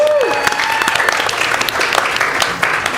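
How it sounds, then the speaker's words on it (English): Loud, steady audience applause for two directors at a live showdown performance, dense clapping filling the whole stretch with a few voices mixed in. "Give it applause going for your two directors."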